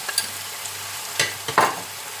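Sauce poured into stir-fried noodles with lacquered pork in a hot pan, giving a faint sizzle and a few brief bursts of spattering and clatter.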